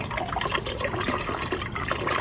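Water gushes steadily from faucets of an Airstream trailer being winterized by the compressed air method, a loud continuous splashing rush with sputtering texture, close by and without speech.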